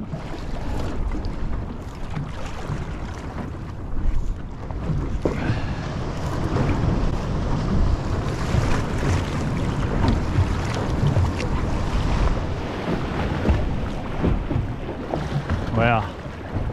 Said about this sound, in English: there's some really big waves coming through there